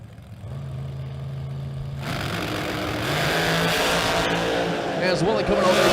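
A chassis dragster launches and roars down a drag strip at a bracket racing event, the engine note rising into a loud, sustained blast that grows over several seconds after a quieter idling start, with a voice talking beneath it.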